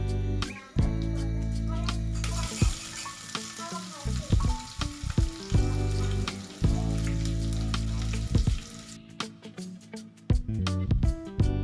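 Whole spices and chopped onion sizzle loudly in hot oil in a pan, a steady dense frying hiss broken by sharp clinks and scrapes of stirring, with a brief quieter gap near the end before the sizzling resumes.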